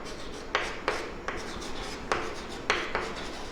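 Chalk or marker strokes on a board during a physics lesson, about seven short scratchy taps and strokes spaced irregularly, fairly close and clear over a quiet room.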